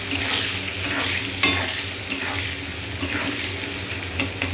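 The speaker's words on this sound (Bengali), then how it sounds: "এবার আলুটা ভাজা হওয়া অবধি অপেক্ষা করব।" Diced potatoes fry in a pan with salt and turmeric, giving a steady, close sizzle with occasional stirring scrapes and faint water-like spatter throughout, with no talking.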